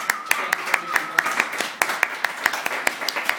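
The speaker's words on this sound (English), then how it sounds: "I would like to invite you to join me in a big applause for them" Audience clapping at a university newspaper's one-year anniversary toast, with sharp hand claps in a loose, uneven rhythm that sounds like a modest group applauding nearby.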